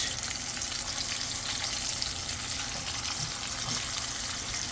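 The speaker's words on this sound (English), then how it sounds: "A nice golden brown sear on the meat" Meat sears in a hot pan beside surf and turf with a blueberry and wine reduction, a dense, continuous close sizzle at an even level with no voices.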